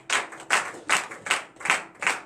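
Congregation at morning prayer clapping in unison, six sharp, evenly spaced claps about every 0.4 seconds in a steady rhythm, moderately loud and close.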